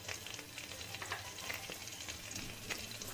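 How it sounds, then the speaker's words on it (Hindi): Cumin seeds, green chilies and ground ginger fry in hot ghee with a close, continuous crackling sizzle, dotted with small pops and stirring scrapes. "अभी जीरा गर्म हो चुका है, उसमें मैं डाल दूंगी 2 हरी मिर्च, पिसा हुआ अदरक"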